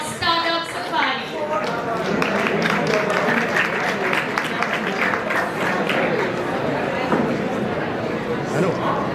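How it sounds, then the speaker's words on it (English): An audience at a startup competition applauds the winners, a broad rush of clapping under a voice at the start and overlapping chatter and movement as the clapping continues steadily. "A huge round of applause for them."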